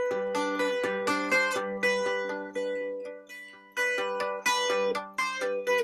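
Dulcimer played with a repeating roll picking pattern, bright plucked strings over a steady droning low note, quick rhythmic strums in close succession with a short pause midway, moderately quiet and up close.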